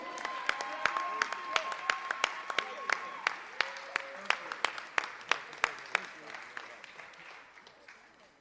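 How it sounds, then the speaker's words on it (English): Audience applause rises for young scholarship recipient Brian Garcia as he takes the stage at a kids' awards evening, with sharp individual claps standing out over a steady crowd clapping that thins toward the end. "give it up a warm round of applause for Mr."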